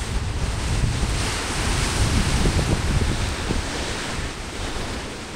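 Ocean waves and surf break along the North Cornwall coast between Northcott Mouth and Duckpool, a steady broadband roar with wind buffeting the microphone and no voices.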